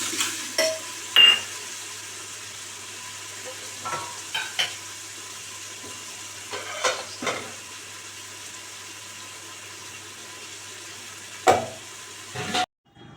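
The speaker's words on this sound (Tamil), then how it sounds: "நம்ம அதில் ஒரு குக்கர் எடுத்து வச்சுட்டு ஆயில் ஊற்றிட்டு மசாலா பொருட்கள் சேர்த்து வெங்காயம் சேர்த்துருக்கேன்" Onions, spices, curry leaves and coriander fry in oil inside a pressure cooker for a chicken curry: a soft, steady sizzle with scattered clinks and scrapes of stirring, no voices.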